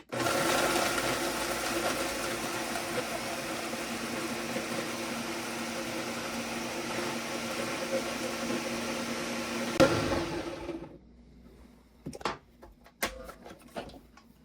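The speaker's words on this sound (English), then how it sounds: "We're going to blend that out to it's like a flour type consistency." A blender runs steadily and loudly for about ten seconds, grinding ingredients down to a flour-like powder, then cuts off and leaves a few faint clicks and bumps.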